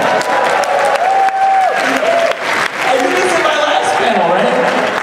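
A convention crowd at a MAGFest Q&A panel applauds and cheers loudly for Pro Jared, with sustained clapping and a few raised voices and whistles over the noise.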